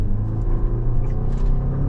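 A 2026 Toyota RAV4 PHEV GR Sport in sport mode accelerates hard from 0 to 60, making a loud, steady low engine rumble from inside the cabin with no talk.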